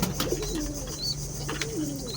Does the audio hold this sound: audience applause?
no